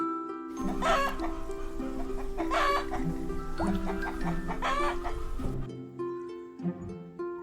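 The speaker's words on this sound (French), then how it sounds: "Poule." A chicken clucking: a series of close, rhythmic clucks in short bursts over a soft musical backdrop, ending with lighter scattered sounds.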